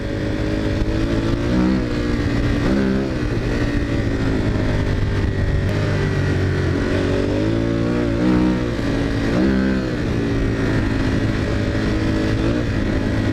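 A motorcycle engine roars loud and close throughout, its pitch climbing and falling as the throttle is opened repeatedly in several surging revs.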